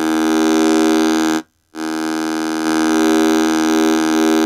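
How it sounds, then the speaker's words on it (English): A harsh, buzzy sawtooth tone blares through a small overdriven Medic Modules Voice Box eurorack speaker, held steadily, cut by a brief gap, then resuming, loud and close. "And a saw wave."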